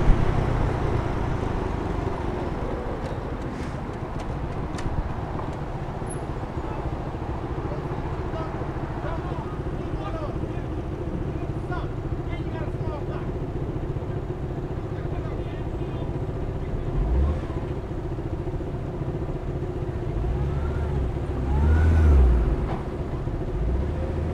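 A motorcycle cruises at 40 mph in fourth gear on Manhattan's West Side Highway. Its engine holds a steady, even rumble throughout, with wind and road noise and only slight swells.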